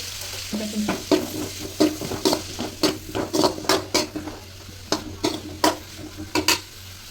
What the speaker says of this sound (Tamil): பன்னீரை நல்லா இந்த மாதிரி க்யூப் கட் பண்ணி அதில் பட்டரில் ஃப்ரை பண்ணணும்